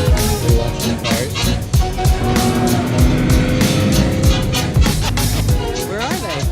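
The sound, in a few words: cars racing past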